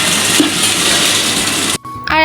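Spices fry in a pan for khichuri made with mung dal, masoor dal and rice, producing a loud, steady hiss that cuts off abruptly near the end, followed by a few brief electronic tones.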